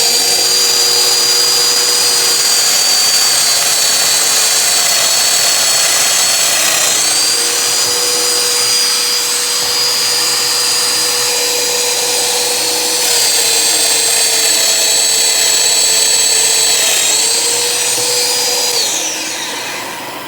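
A Festool Domino joiner plunges into a wood board to cut a mortise, its steady high motor whine and rushing airflow running loud and close for about nineteen seconds before winding down.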